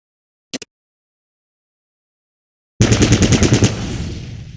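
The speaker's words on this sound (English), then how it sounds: "Target the dummy, and left-click to fire at it." Video game gunfire in Fallout Tactics aimed at a training dummy: a brief click, a long silent pause, then a loud rapid burst of automatic shots that trails off into a fading echo.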